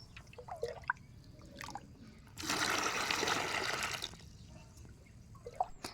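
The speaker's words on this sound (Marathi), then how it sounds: "पाणी घेत असताना हा आवाज किती क्यूट येत होता" Water running into a container indoors, a steady pouring wash that swells for about a second and a half in the middle, with faint drips and small clinks before and after.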